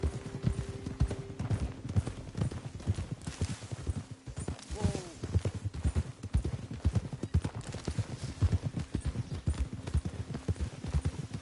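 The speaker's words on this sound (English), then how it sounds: "Get a hold of that horse, will you?" Horse hooves clip-clop in a steady rhythm on hard ground in the video game Red Dead Redemption 2, with a brief whinny partway through and faint background noise.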